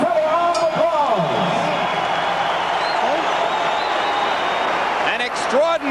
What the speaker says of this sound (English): The entire arena on its feet, cheering, stomping, and applauding both fighters